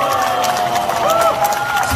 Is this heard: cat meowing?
no